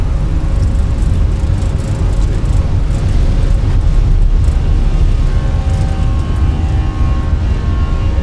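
Airliner jet engines roar through a takeoff roll in Microsoft Flight Simulator, departing Asheville's higher-altitude airport at derated thrust; a loud, steady broadband rumble holds throughout with faint tonal whine above it.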